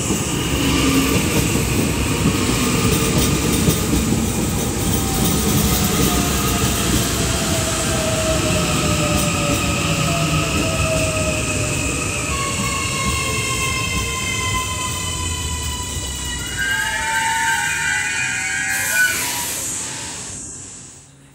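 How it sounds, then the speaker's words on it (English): A six-car AM class electric multiple-unit train in Auckland runs steadily with a loud, continuous rumble and rising electric motor whine, then fades out near the end. "And this was my train back to Newmarket, in the form of a 6-car consist with AMs 823 and 836."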